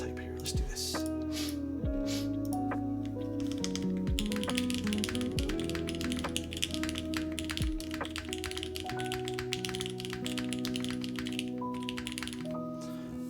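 Rapid clacky keystrokes on a mechanical keyboard typed without a desk pad, close and continuous, with occasional heavier thocks from larger keys; no talking.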